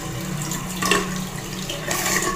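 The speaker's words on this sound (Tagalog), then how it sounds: "Pwede na itong tap water." Tap water runs steadily from a faucet in a bathroom, a close, continuous splashing hiss with slight surges.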